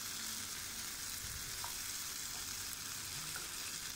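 Tandoori chicken fries on a tawa with a constant, even sizzle and hiss, close but fairly quiet, with only faint occasional ticks and no voices.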